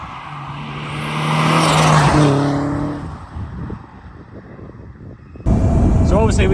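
A Mercedes SLK sleeper accelerates hard with a rising engine note, then passes into a rougher rumble before a sudden loud cut to another close burst of engine and road noise.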